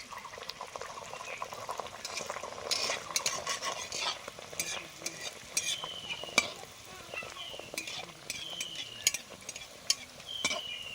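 Soft naan dough sizzles and bubbles in hot oil in a wok, a steady close crackle with scattered sharp pops and occasional stirring scrapes.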